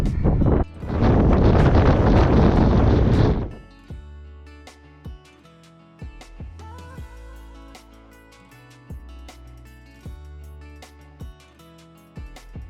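Wind roars against the microphone in a loud, rough gust lasting about three seconds outdoors among granite boulders on Tinos, then drops away, leaving a quieter stretch of plucked musical tones.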